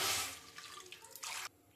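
Water pours from a tap or jug into a pan of roasted oats, a close, steady splashing stream that fades, then a brief louder gush before stopping, with no talking.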